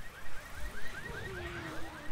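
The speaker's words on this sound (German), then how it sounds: "Überall Alarm an." Car alarm blaring in the Left 4 Dead 2 video game, a repeating rising electronic whoop cycling steadily over about two seconds amid game noise, with no voices.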